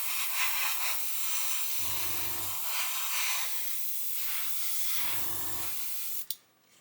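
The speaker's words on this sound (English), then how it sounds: "So what we're doing now is we're spraying the paint on here" Paint sprayed onto a scale model in slow build-up coats over a hairspray layer, giving a steady close airbrush-like hiss that runs on, broken by two short low hums and ending in a brief puff.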